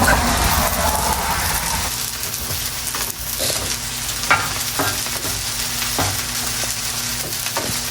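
Chicken fried rice with garlic frying in a hot pan, a steady loud sizzle with scattered spatula scrapes and taps, close by and without speech.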